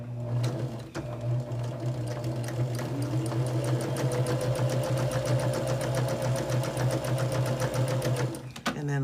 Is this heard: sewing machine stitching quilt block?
yes